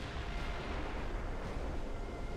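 Eight-inch naval guns on a light cruiser fire in the Ultimate Admiral Dreadnoughts naval battle game, a dense, rumbling barrage of booms blending into a continuous roar of battle noise, fairly loud with no talk.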